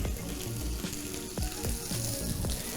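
Patagonian toothfish fillet frying skin-side down in a hot pan, a steady close sizzle and crackle with intermittent spitting pops throughout.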